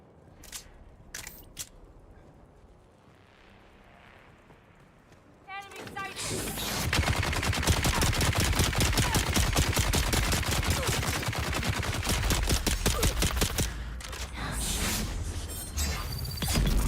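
Rapid pistol fire in Dune Awakening rattles out in a dense, sustained burst after a quieter stretch with a few isolated clicks, loud and close, with occasional talk over it.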